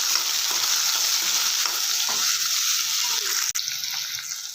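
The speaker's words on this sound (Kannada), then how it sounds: "ಇವಾಗ ಜೀರಿಗೆ ಹಾಕ್ಕೊಳ್ಳೋಣ. ಹಾಗೆ ಕರಿಬೇವು ಹಾಕ್ಕೊಳ್ಳೋಣ. ಕಟ್ ಮಾಡಿಟ್ಟಿರೋ ಈರುಳ್ಳಿ ಹಾಕ್ಕೊಳ್ಳೋಣ. ಚೆನ್ನಾಗಿ ಹುರ್ಕೊಳ್ಳೋಣ." Onions frying in a pan with cumin seeds and curry leaves for a green beans palya, a steady close sizzle with soft stirring scrapes and a brief clatter near the end, no talk.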